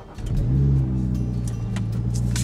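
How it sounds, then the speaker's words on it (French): A car engine turns over and catches, settling into a steady low idle close by. "il va se faire réveiller par le bruit du moteur"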